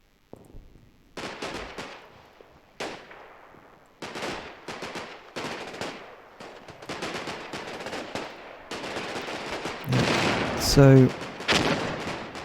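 Automatic and rifle gunfire crackles in a World War II tank battle game firefight, repeated bursts through the clip with a few louder impacts near the end, a voice briefly talking.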